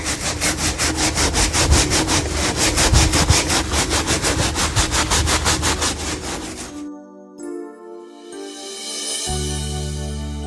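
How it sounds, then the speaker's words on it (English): A fabric grow bag is scrubbed to loosen caked dirt, giving a fast, even series of rough brushing strokes for about seven seconds before the scrubbing stops and music takes over. "Just scrub it like that the best you can to try to loosen up some of that dirt on there."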